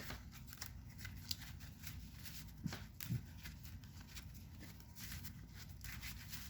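Cards are shuffled in a few quick riffling bursts at low volume in a Yu-Gi-Oh! card video game, with faint clicks and no talking.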